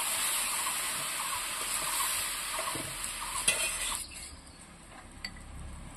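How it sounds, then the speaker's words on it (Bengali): Chopped banana blossom and spiced lentils are stirred in a hot pan, with a bright frying hiss and occasional spoon scrapes; the sizzle drops off noticeably partway through. "মোচার সঙ্গে আর মশলা ডালের সঙ্গে পুরোটা ভালো করে নাড়িয়ে নিতে হবে"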